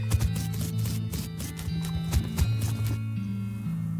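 A horse in the West of Loathing video game clip-clops in a quick, steady rhythm of hoofbeats, with a short whinny among them, fairly faint over a soft game backdrop.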